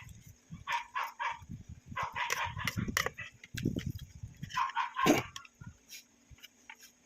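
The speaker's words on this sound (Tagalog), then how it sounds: "Ingay yung aso sa kabila." A neighbor's dog barks next door in a series of sharp, fairly loud yaps in irregular clusters, heard from a short distance with no one talking.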